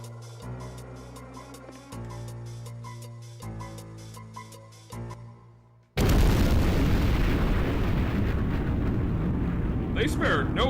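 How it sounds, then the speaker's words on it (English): A loud, roaring explosion in a video game bursts in abruptly after a stretch of chiptune-style game music, filling the rest of the moment with a dense, sustained rumble and crackle. "They spared no expense on that explosion."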